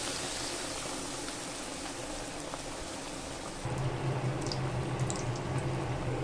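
Bread pakoras coated in besan batter fry in hot oil, giving a steady, dense sizzle that grows somewhat louder and heavier partway through, with no talking.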